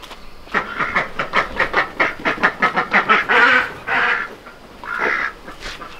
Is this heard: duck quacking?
yes